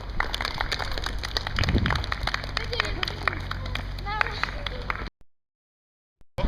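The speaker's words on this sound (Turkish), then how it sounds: "ve arkadaşlarınızı alkışlıyoruz." Indoor applause with many hands clapping at once during a games and sports class session, a lively crowd and voices mixed in, before the sound cuts off abruptly.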